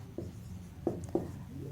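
Pen or chalk writing out a trigonometric differentiation equation for a maths lesson, a few short scratchy strokes in a quiet room with low background hum.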